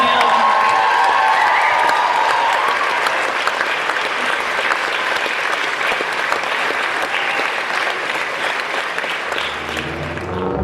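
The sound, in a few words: audience applause and cheering in theater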